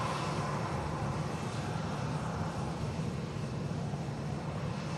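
Engine noise from a Lufthansa Airbus A321neo forms an even, broadband jet rumble, moderately distant and unbroken across the few seconds, with no talk.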